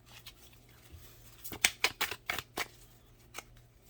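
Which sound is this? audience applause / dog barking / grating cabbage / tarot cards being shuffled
tarot cards being shuffled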